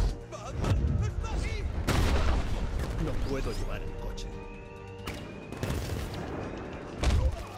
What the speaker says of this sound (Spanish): me hace mucho daño los disparos de las balas